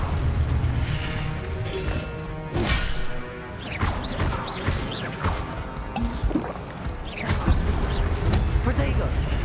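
Incendio fire spell blasts in Hogwarts Legacy, several sharp booming crackling bursts with whooshes and impacts scattered over busy game combat sounds, close and loud.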